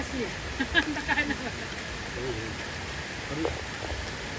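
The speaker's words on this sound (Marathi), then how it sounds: "हे बघा पाऊस" A steady hiss of falling rain, with a voice speaking briefly over it early on and again near the end.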